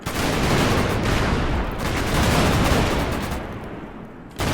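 A thrown explosive detonates in the Roblox game Jailbird, a loud, dense burst that roars and rumbles for several seconds before cutting off abruptly near the end, with no voices.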